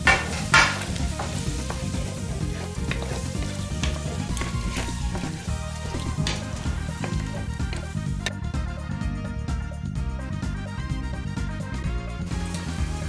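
Shrimp fry in a pan for pad thai, a dense continuous sizzle and crackle with occasional clinks and stirring scrapes, close up and steady for the whole stretch, with no voices.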